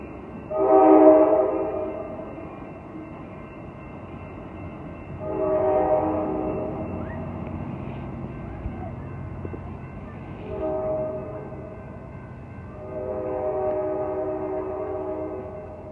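An Amtrak passenger train led by an F-59PHI locomotive in Oakland's Jack London Square sounds four separate horn blasts, one long and the others shorter, with a low rail rumble between them.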